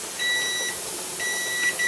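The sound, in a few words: kitchen timer beeping during pressure canning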